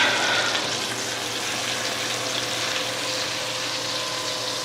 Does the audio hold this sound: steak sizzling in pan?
yes